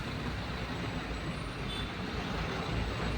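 A road traffic jam between Bommasandra and Hosur with buses and trucks, a steady, faint rumble of idling and crawling heavy vehicles heard from a distance, with no voices.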